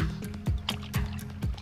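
Fish being put into sea water in a holding container, giving a rhythmic series of sloshing splashes and drips about every half second, close and fairly loud, with no talking.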